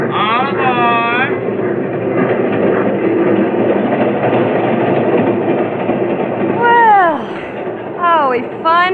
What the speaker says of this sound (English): All aboard, train leaving for Lake Placid.